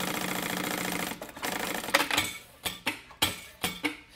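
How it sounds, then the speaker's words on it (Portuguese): A sewing machine stitches a small folded hem on fabric, first running in a continuous rapid whir, then breaking into short separate bursts of stitching with brief pauses between them, close and clear. "faz uma costurinha aqui, ó, para dar um acabamento pequenininho"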